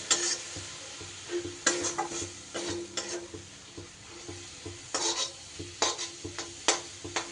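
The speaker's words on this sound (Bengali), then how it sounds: "মশলাটা একটু ভালো করে কষিয়ে নেব" Spice paste with Kashmiri chili powder and a splash of water is stirred in a pan for a thin rohu fish curry, giving repeated scraping strokes over a soft, steady sizzle, close and intermittent without voices.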